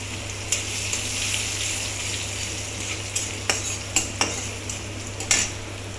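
Chopped garlic fries in a small amount of oil with dried red chillies, a steady close sizzle broken by several sharp utensil clinks against the pan, with no voices.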